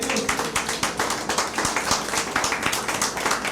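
A church congregation claps together in a fast, steady rhythm, with many hands landing in sharp repeated beats that fill the room at a moderate level.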